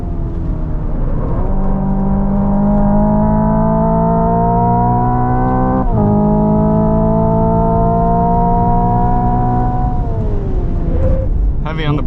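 Hyundai IONIQ 5 N electric car under way with its synthesized engine sound, a loud steady droning whine with layered tones that rise and hold, dip briefly midway, then fall as the car slows near the end.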